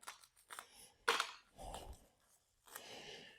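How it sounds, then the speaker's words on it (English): Light blade cuts through electrical tape wrapped around the turn signal wiring of a TIFGALOP T88 Plus electric scooter, a few short close snips and rustles with quiet gaps between them. "I'm just cutting the tape very lightly on it because I don't want to cut through a wire or anything."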